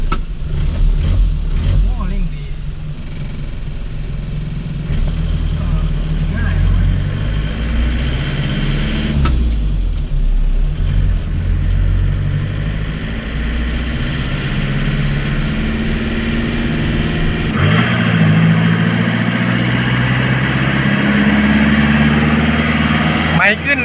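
A Nissan Big-M pickup's diesel engine runs at idle, a steady low rumbling chug with a couple of brief changes in tone partway through and a louder shift near the end, with no voices over it.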